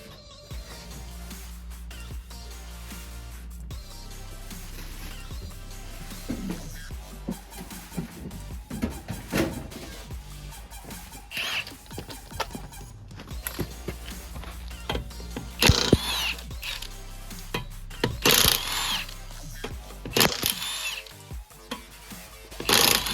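Wheel coming off a Honda Jazz during a brake pad job: rattling power-tool bursts, likely an impact gun on the wheel nuts, mixed with clanks and handling knocks, loud and close, growing busier toward the end.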